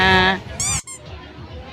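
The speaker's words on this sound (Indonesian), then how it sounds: "Wah, ada bebek-bebeknya juga teman-teman." Ducks at a busy park with a pond, floating gazebo and fish, giving a short burst of loud nasal honking quacks close by, followed by quieter crowd murmur and outdoor background noise.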